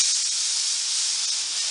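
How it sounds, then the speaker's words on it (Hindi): A pressure cooker cooking rice lets out a steady, loud hiss of escaping steam that holds unbroken and close for the whole stretch. "और ये कुकर की सीटी जो है, इसमें चावल मेरे बन रहे हैं, बन चुके हैं, मतलब 2 सीटी आ गई चावल में"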